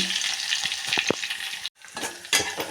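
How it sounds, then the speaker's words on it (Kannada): Garlic frying in a pan for a raw mango pickle or chutney gives a steady close sizzle with a few stirring scrapes. A brief gap of silence falls midway, then the sizzling returns. "ಈಗ ಬೆಳ್ಳುಳ್ಳಿ ಹಾಕ್ಕೊಳ್ಳೋಣ್ರಿ ಬೆಳ್ಳುಳ್ಳಿ ಹಾಕ್ಕೊಂಡಿಂದ ಸ್ವಲ್ಪ ಕರಿ"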